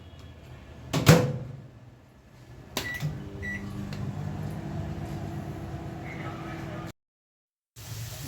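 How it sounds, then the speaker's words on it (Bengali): A microwave oven heats home-cooked food with a steady, moderate hum that runs several seconds after a couple of door thumps. It stops abruptly, followed by a short silence. "ওভেনে দিয়ে দিচ্ছি।"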